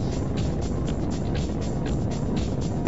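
Solid rocket motor of the NASA Ares I-X test rocket in flight, giving a loud, steady, dense roar that holds unbroken from start to finish with no voices over it.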